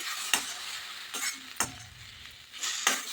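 A semolina and coconut mixture with milk being stirred in a pan for jaggery modak filling, a low soft sizzle broken by four or five distinct scraping spoon strokes against the pan.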